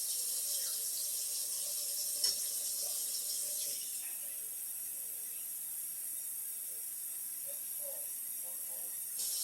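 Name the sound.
tap water running into a pot for soup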